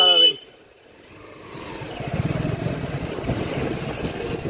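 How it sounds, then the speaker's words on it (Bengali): Rider on a new Honda CB Unicorn motorcycle: after a brief quiet start, a low engine and road rumble with wind noise builds and holds steady, fairly loud and close. "এটা আমার নতুন বাইকের জার্নি কেমন লাগে অবশ্যই জানাবেন"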